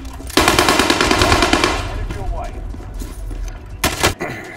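A loud, sustained burst of machine gun fire in Call of Duty Warzone, rapid rhythmic shots that trail off and are followed by a second short burst a couple of seconds later.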